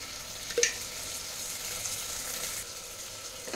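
Paneer biryani masala with ginger garlic paste is stirred in a hot pan: a soft, steady sizzle runs throughout, with one brief scrape of the spoon near the start.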